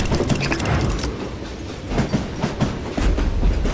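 Moving train in the video game Call of Juarez, with rhythmic clickety-clack of wheels on rails and metallic rattling of cars, loud and continuous without speech.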